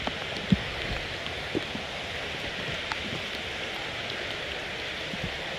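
Steady rain falls at a campground of log cabins, a soft continuous patter with a few louder drips standing out, no voices.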